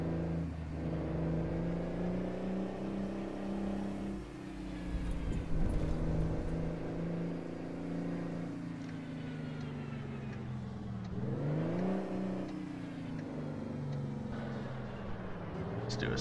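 A Mack B62 truck engine in American Truck Simulator revs and drones steadily, its pitch dipping and climbing in broad sweeps as the load changes, loud and continuous with a low rumbling undertone.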